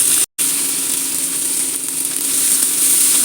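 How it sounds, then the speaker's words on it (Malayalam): Sliced onions frying in hot oil give a loud, constant, close sizzle with a brief cut near the start. "അതിലേക്ക് ഒരു 2 സവാള അരിഞ്ഞതിട്ട് കൊടുക്കാം."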